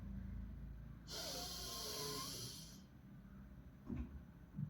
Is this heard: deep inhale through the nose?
yes